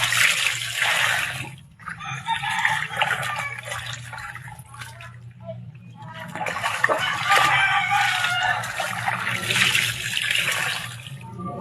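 Water sloshes and splashes in bursts as laundry is washed by hand, several rhythmic rounds of wet churning broken by brief quieter gaps, close and fairly loud.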